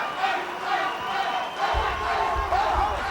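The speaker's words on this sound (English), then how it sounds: "The crowd is getting excited. Cheering them on." A boxing crowd roars and cheers loudly and steadily through the closing seconds of a heavyweight fight, with a surge of noise partway through.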